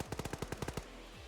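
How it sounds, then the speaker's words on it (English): Rapid automatic gunfire in the video game Fortnite during a competitive match, about nine quick punchy shots in an even burst, then a short tail of quiet. "Joseph Stalin also getting some shots on Johansson before he can retaliate"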